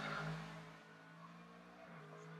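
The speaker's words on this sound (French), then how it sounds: "non, c'est rien, c'est une moto." A motorcycle engine swells briefly nearby and then fades as it passes, a low steady hum trailing off.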